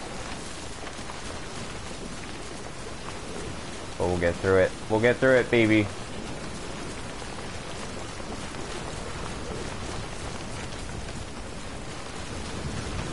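A constant wash of windy rain from the video game Death Stranding runs the whole way through, a voice talking briefly in the middle over the steady downpour.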